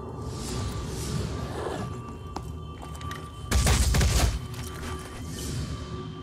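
A burst of gunfire and explosive thumps in the video game Phoenix Point, landing as a loud, dense volley midway through, with a softer game soundscape before and after it.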